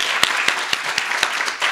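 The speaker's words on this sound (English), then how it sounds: "Just one more round of applause for the magic that was conjured." An audience at a poetry reading breaks into applause, a steady wash of many hands with sharper individual claps popping out at regular intervals throughout.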